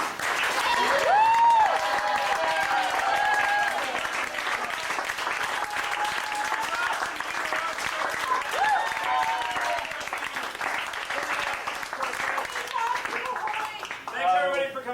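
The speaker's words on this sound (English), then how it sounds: "Let's have a big round of applause for." A small audience at a live music and talk session applauds steadily after a performance, with whoops and shouted cheers riding over the clapping and voices chattering throughout.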